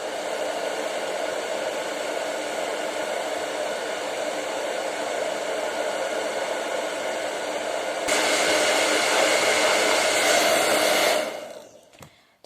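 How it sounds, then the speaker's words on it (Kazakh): A handheld hair dryer blows in a steady close roar, rising to a harsher, louder setting partway through before winding down and cutting off. "Осы фенмен осыны кептіріп көреміз."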